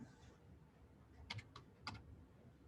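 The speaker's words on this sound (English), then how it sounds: "I'm going to type in" Quiet keystrokes on a computer keyboard: a few separate clicks in a short burst, then a pause, then one more cluster, soft and near against a faint room hush.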